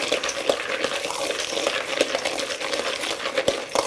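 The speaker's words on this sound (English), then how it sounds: "This one also goes into the granules and stir." Groundnut granules being stirred with egg coating them: a steady wet, gritty scraping with small clicks of nuts knocking together, close and fairly loud.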